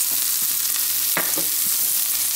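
Onions and mushrooms fry in coconut oil in a skillet, a steady loud sizzle running throughout, with a few soft stirring scrapes and one sharper clatter near the middle.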